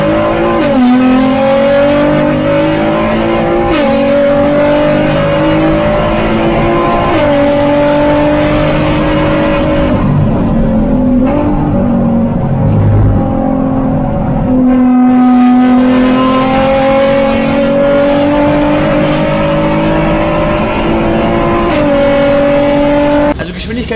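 A Nissan GTR on a Spa-Francorchamps trackday roars loudly and continuously from inside the car, its engine note rising through revs and dropping at gear changes.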